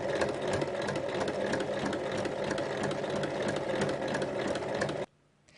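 A sewing machine stitching a pocket onto a backpack, a fast steady mechanical whir with a rapid needle rhythm, running evenly and close for about five seconds before stopping abruptly.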